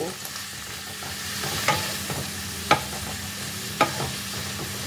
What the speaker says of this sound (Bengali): মেথি শাকটাকে বাটারের মধ্যে একটু ফ্রাই করে নেব।